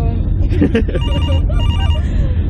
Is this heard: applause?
no